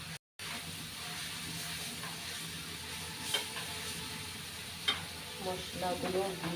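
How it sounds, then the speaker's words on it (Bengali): Noodles frying with spices in a pan, giving a steady close sizzle and hiss with occasional stirring scrapes and clinks. "তারপর এখন নুডলসটাও দিয়ে দিব।"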